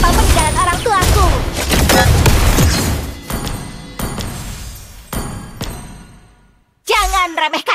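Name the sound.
Layla's gun firing in video game Mobile Legends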